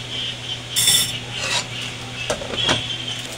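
Buldak carbonara noodles stirred in a pan, giving a few scraping, clinking utensil strokes against the metal in short bursts, moderately close with a low steady hum underneath and no talking.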